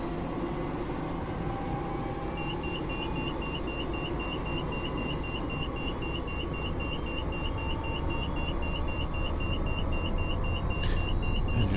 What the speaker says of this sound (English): Engine rotor warning going off there.